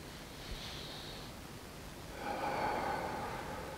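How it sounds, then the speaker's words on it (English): A soft, breathy exhalation during yoga practice, a short nasal puff followed by a longer, fuller airy release, close and quiet with no talking. "as you release the breath."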